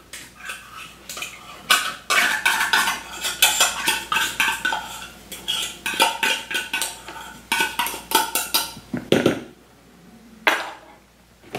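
Utensil clinking and scraping against a container while tuna in oil is stirred into a large batch of egg-curing brine, with repeated irregular knocks and swirls close by, no talking.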